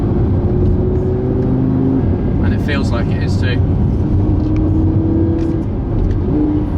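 An Audi R8 V10 Plus mid-engine supercar, running in manual mode in fourth gear, gives off a steady engine drone and road roar heard from inside the cabin, continuous beneath someone talking throughout.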